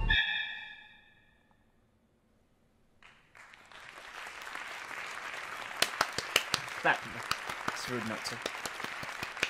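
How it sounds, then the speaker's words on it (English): A crowd of people breaks into applause after a brief lull, a dense, sustained patter of many hands clapping at a moderate distance, with a voice speaking briefly under it. "Why are you clapping? I am clapping."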